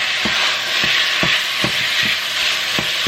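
Meat sizzles with onions and peppers in a hot pan, a steady loud fry broken by about eight regular scraping stirs.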